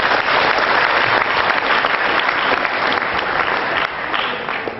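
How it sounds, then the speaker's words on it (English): Sustained applause from an audience at a renewable energy business event, a dense steady wash of clapping that stays loud for the whole stretch and eases off slightly near the end. "Round of applause for him,"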